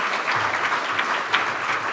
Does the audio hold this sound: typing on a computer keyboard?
no